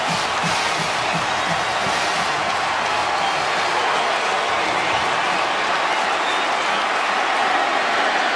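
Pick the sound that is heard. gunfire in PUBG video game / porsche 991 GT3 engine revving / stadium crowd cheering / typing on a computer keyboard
stadium crowd cheering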